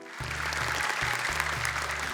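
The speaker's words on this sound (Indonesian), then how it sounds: "Mana dong tepuk tangannya?" Studio audience applause on an Indonesian Quran memorization show, a dense wash of clapping under a low sustained musical tone, loud and close.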